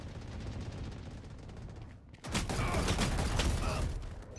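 Rapid gunfire crackles in a Valorant team deathmatch, continuous automatic bursts that drop briefly, then resume louder and denser.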